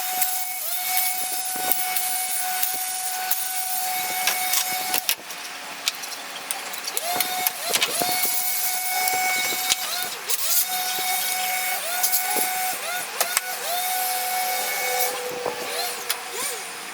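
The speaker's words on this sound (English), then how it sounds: "I think like 3 of my neighbors decided to cut the grass at the same time" Several lawn mowers cut grass nearby at the same time, making a continuous droning, whining hum with a steady tonal edge and broad hiss. Scattered clicks and knocks from nearby work sound over it.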